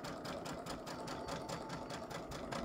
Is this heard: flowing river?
no